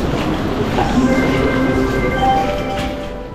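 A Sapsan high-speed passenger train rumbles loudly nearby, its steady roar carrying faint tonal whines from the engine and wheels.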